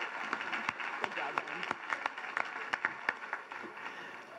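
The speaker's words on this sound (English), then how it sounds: "One more round of applause" Audience applause at the University of Pikeville opening convocation, a steady wash of many hands clapping with sharper individual claps poking through, moderately near in a large hall.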